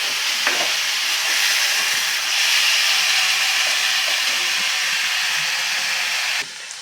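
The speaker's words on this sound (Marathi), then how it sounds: "आता साधारण पाच मिनिटे ही भाजी आपण परतवून घेऊया छान लसणामध्ये" Ghol leaves sauté in hot oil with garlic, giving a steady, close sizzling hiss that runs continuously and then drops off abruptly near the end.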